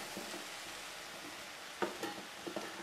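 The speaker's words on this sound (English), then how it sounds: "I want to just stir this just a little bit here." A simmering sweet and sour sauce with peppers bubbles softly as a utensil stirs it, with a faint sizzle and a few light clinks near the end.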